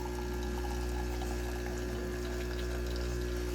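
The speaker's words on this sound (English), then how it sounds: "And you see the espresso is coming out the front too." Jura E8 coffee machine dispensing espresso from the front spout, a steady liquid stream with a constant low pump hum underneath, continuous and close.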